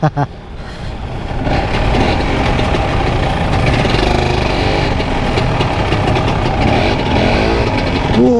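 A Cagiva Mito 125 motorcycle engine roars steadily and loudly up close, a dense continuous rumble that holds without a break.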